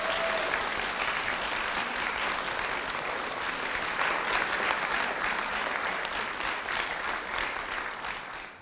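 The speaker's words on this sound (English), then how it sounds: "Should we give them a round of applause?" An audience applauds steadily at an interfaith ordination ceremony, a dense, sustained wash of many hands clapping that holds its level throughout and tails off slightly at the very end.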